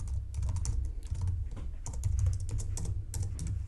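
Fast typing on a computer keyboard, a close, continuous clatter of keystrokes with uneven rhythm and no voices.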